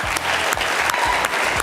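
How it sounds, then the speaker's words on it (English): A studio audience at a televised quiz show applauds the contestants with a brief burst of dense, loud clapping, and low rhythmic thumps pulse underneath. "Once again, a round of applause for them."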